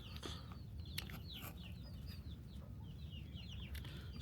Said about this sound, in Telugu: చూసారా పుంజులు,